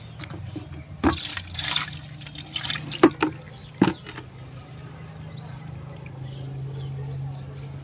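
Water splashed onto aloe vera plants growing on a rooftop: a few distinct splashy bursts and patters in the first half, then a quiet low hum with little activity.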